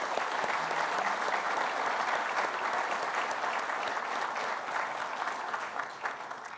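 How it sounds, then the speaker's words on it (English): Sustained applause from an audience at a college football awards ceremony, dense and steady clapping that fills the whole stretch before slightly tapering. "Please join me in giving them a round of applause."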